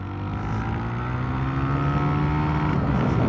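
Engine of a 2006 kick-start Honda Titan 150 motorcycle fitted with a 190 kit, original carburetor and a crackling exhaust, running in a loud steady drone with a rising pitch near the end.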